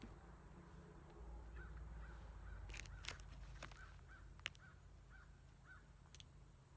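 Several crows caw repeatedly in short, evenly spaced calls over a steady low background rumble, fairly distant and faint, with a couple of sharp clicks near the middle.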